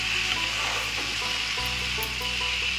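Small chopped prawns sizzle steadily in a hot pan while being stirred, a continuous close frying hiss with soft utensil scrapes and no voices.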